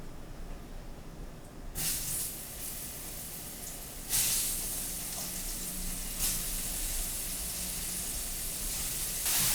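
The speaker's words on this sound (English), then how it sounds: "we're going to saute out our mushrooms" Mushrooms sauteing in bacon fat in a pan for coq au vin, a steady sizzle that bursts louder as more go in, with stirring hiss and no talking.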